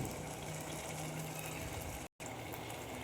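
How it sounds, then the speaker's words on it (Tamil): Water pours steadily into a pan of sautéed chicken for chicken pasta, a continuous broadband rush with a brief cut partway through and no talking. "இப்போ நம்ம இதுக்கு தேவையான வாட்டர் சேர்த்துக்கலாம்."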